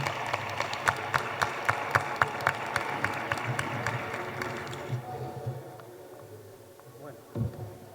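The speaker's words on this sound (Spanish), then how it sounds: "un fuerte aplauso para ellos tres" Audience applause for three speakers at a book fair talk, a moderate round of clapping that fades out after about five seconds, leaving a quiet room.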